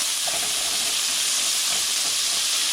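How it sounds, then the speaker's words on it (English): Baked beans mixture starting to fry over medium heat in a cast iron skillet, a steady bright sizzle and hiss, close and continuous with no talk. "Now that it's starting to fry."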